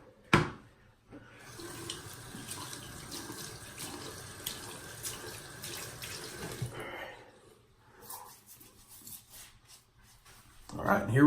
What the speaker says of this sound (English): And it is just spilling all in the sink.